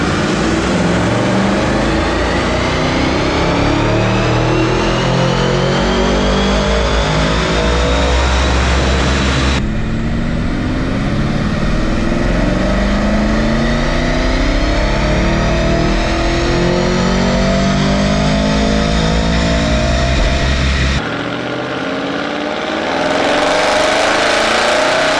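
An Audi RS6 fitted with a Unitronic air intake runs on a dyno and revs hard through repeated rising engine sweeps. It is loud and sustained, with brief pauses between pulls and no talking.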